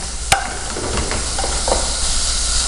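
Grated carrot stirred around a hot pan with a steady sizzling hiss and a few scraping knocks from the utensil, including one sharp clack near the start, all close and continuous with no talking.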